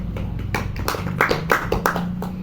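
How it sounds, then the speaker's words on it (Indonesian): A small group of students claps for Nadia in an Indonesian primary school classroom lesson, a short burst of scattered, uneven hand claps with a little low voice murmur beneath. "Kita kasih tepuk tangan dulu"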